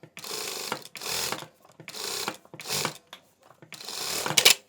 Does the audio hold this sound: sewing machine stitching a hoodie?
yes